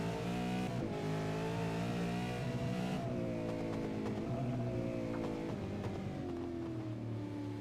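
A V8 race car in the Supercheap Auto East Coast V8s series laps the Bathurst mountain circuit after a safety car period, its engine note droning loud and steady with rising and falling pitch as it shifts through the corners.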